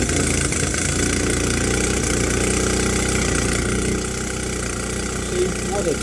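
Mercury 9.9 outboard engine running after a pull start, a loud steady close idle with a slight dip partway through, with someone talking over it.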